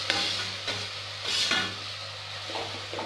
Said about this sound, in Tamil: நல்லா அந்த ராஸ்மல் போகிற வரையும் நம்ம இதை ஃப்ரை பண்ணிக்கணும்